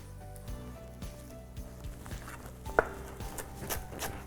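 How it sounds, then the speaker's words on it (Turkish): A knife chops parsley on a kitchen board during a Turkish Ramadan cooking show, the blade striking in a steady series of close, crisp taps with no one speaking. "Önce maydanozları doğrayalım."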